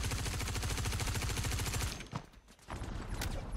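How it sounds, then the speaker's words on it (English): Rapid automatic gunfire fills a Star Citizen PvP fight, a loud dense burst lasting about two seconds, then breaking into a few scattered separate shots. "They're shooting at me."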